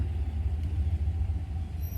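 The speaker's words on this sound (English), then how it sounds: "Sorry, it was some trucks doing some weird shit." Trucks outside give off a steady low rumble, a continuous deep engine drone heard at a distance with no talking.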